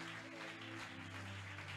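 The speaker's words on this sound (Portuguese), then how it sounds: "Uma salva de palmas para Jesus." A church congregation applauds in praise, a dense, steady wash of clapping that holds for the whole moment without a break.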